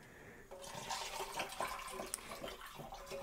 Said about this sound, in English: The fact that it's gurgling like that, incorporating some oxygen into the mix,